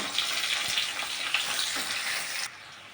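Chopped onion frying loudly in hot oil, a dense crackling sizzle that carries on steadily, then drops off abruptly near the end.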